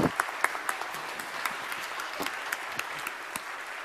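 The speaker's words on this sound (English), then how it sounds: "Give them a round of applause." Applause from a church congregation for a group of children, a light, scattered patter of claps with distinct individual hand strikes, fairly faint and distant, lasting a few seconds.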